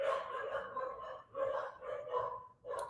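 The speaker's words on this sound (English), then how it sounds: "Can you hear my dogs, by the way?" Several pet dogs bark excitedly indoors at home, a run of repeated close barks in uneven bursts with short pauses between them.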